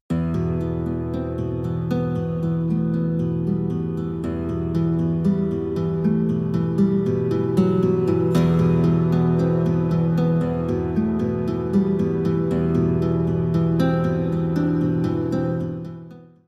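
Orchestral Total War: Rome 2 soundtrack music with sustained strings and low drones plays steadily, swelling slightly before fading out at the end.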